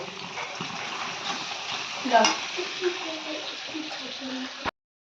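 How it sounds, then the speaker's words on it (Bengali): Onions frying in a pan in a home kitchen, a steady hissing sizzle with a brief louder flare as they are stirred, close and moderately loud, ending abruptly. "পেঁয়াজগুলো আমি একটু ভেজে নেবো ভালো করে"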